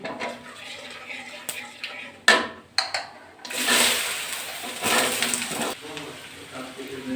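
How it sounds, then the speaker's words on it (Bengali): Washed, chopped radishes drop into hot oil spiked with black mustard seeds in a pan, a sharp clatter of pieces landing followed by a bright, hissing sizzle that swells and fades, with occasional utensil knocks. "এবার ধুয়ে কেটে রাখা মূলোগুলো দিয়ে দিচ্ছি"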